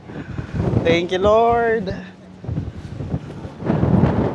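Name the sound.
strong wind on cruise ship deck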